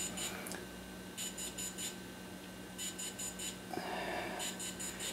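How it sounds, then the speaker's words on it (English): Bursts of high-pitched electronic beeps from a DJI Phantom 3 drone during a firmware update repeat in short groups of three or four, separated by pauses, over a steady low hum and faint background noise. "Once the process is done, you should stop hearing the beeps"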